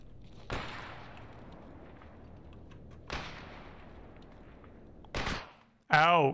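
Gunshots in the video game STALKER EFP: three sharp, loud reports spaced a few seconds apart over a steady ambient bed, the last closely followed by a brief warbling burst.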